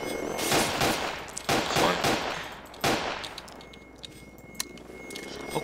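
Pistol gunfire in Garry's Mod cracks out in a rapid run of loud, close shots for the first few seconds, then tapers to a few scattered, fainter pops.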